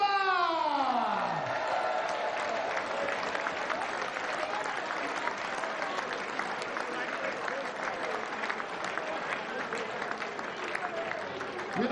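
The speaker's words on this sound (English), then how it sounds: "a massive round of applause for our finalist as he leaves the stage, Chris Lman!" Darts crowd at a World Championship final breaking into sustained applause and cheering for a finalist leaving the stage, steady and full throughout, with a voice fading out at the start.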